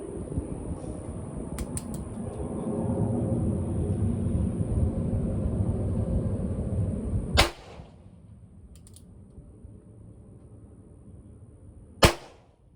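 A revolver fitted with a safety fires two loud, sharp shots several seconds apart over a low background rumble, each shot trailing off quickly.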